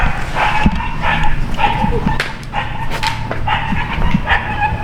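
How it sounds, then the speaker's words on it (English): An anxious dog shut inside a car barks and yips in quick, close bursts, with whimpering between, while a person talks over it. "it's just a dog in a car who's a little anxious for their owner to come back"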